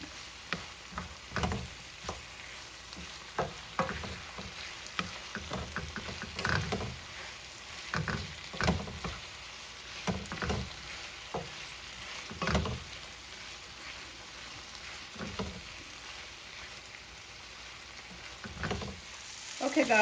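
Red snapper stew stirred in a pot, a spoon scraping and knocking in irregular bursts over a steady soft sizzle, fairly close and with no voices.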